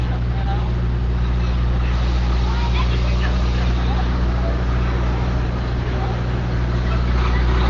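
A tractor engine runs at an outdoor dig site searching for Confederate remains, a loud, steady, unbroken drone that holds one even pitch throughout.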